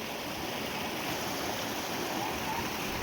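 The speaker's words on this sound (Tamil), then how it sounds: "இந்த வெய்ய காலத்துலேயும் தண்ணி கொஞ்சமாக போகுது, ஆனால் குளிக்கிறதுக்கு நல்ல ஃபோர்ஸ் இருக்குது." Forceful flow of a forest river on the Tamil Nadu–Kerala border route from Udumalai to Marayur, a steady broadband rush of water, moderately distant and constant, with no talking.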